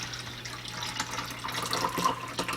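Watery dirt-and-clay mixture poured back into a cup, a steady close trickling and splashing with a faint low hum underneath, no talking.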